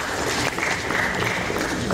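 An audience at a crowdfunding and SME listing lecture meeting gives a round of applause for Mr. Ajay Thakur, a dense, loud, continuous wash of clapping from many hands.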